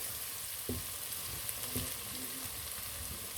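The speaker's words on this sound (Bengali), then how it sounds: "পেঁয়াজ রসুন কুচিগুলো আমি একসাথে দেখতেছেন দিয়ে দিলাম।" Chopped onion and garlic frying in hot oil, a steady, quiet hiss with a few soft spatula knocks and scrapes, heard close up with no voices.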